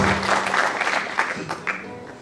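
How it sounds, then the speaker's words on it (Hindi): An audience at a felicitation ceremony for NEET toppers at a career institute in Srinagar claps steadily, a dense, sustained wash of applause with a voice faintly mixed in. "भरपूर तालियां, तालियों में कोई कॉम्प्रोमाइज नहीं"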